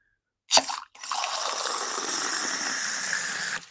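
A soda siphon dispenses water: a short burst, a brief pause, then a steady fizzing hiss of liquid spraying from the nozzle for about three seconds, close by with no talking.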